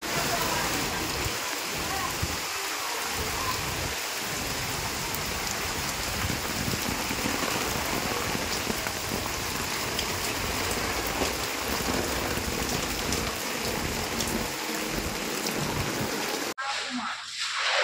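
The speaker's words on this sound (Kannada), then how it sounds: "ಜಿಲ್ಲೆಯಲ್ಲಿ ಗುರುವಾರ ಸಂಜೆ 3 ಗಂಟೆಗೂ ಹೆಚ್ಚು ಕಾಲ ಗುಡುಗು ಸಿಡಿಲು ಸಹಿತ ಜೋರು ಮಳೆಯಾಗಿದೆ." Heavy, steady downpour during a thunderstorm, a dense loud hiss of rain pouring on surfaces that runs unbroken for most of the stretch before cutting off abruptly near the end; voices murmur faintly beneath it.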